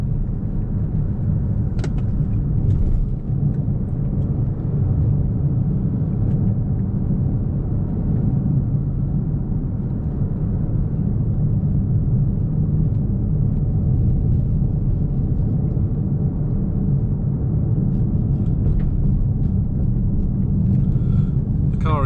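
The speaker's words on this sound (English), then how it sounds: "the biggest noise in fact is the sound of wind rushing over the wing mirrors," Wind and road noise inside a 2024 Toyota C-HR GR Sport at speed, a steady low rumble with wind rushing over the wing mirrors, plus a few faint clicks and ticks.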